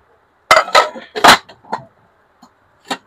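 A Kiam nonstick milk pan is picked up and handled, giving several sharp metallic clanks and clinks close by in an irregular cluster, followed by a couple of fainter taps with quiet gaps between.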